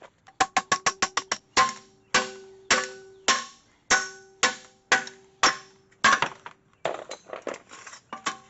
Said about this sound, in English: Just give it a few taps with a hammer.